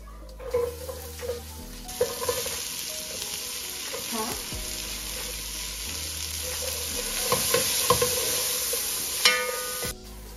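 Onions frying in a pot for chicken stew, a bright sustained sizzle with scraping stirs and occasional clinks, close-up and continuous, no one talking.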